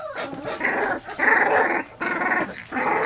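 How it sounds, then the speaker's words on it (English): Yellow English Labrador puppies about two and a half weeks old growl and grumble in several close, bursting phrases with brief pauses between them. "They're growling."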